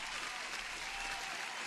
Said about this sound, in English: Applause for Odia-san.